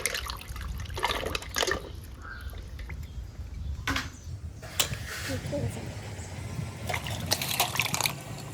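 Mussels being washed by hand in a pot of water, with repeated splashing, sloshing and dripping in short bursts up close, while a person talks over the sound.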